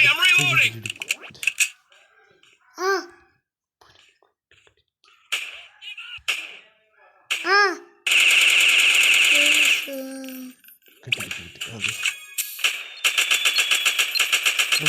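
Automatic gunfire bursts in a military shooter game played as the Indian army at an ice hut, rapid rattling volleys loud and close, interleaved with sweeping electronic game effects and someone talking between bursts.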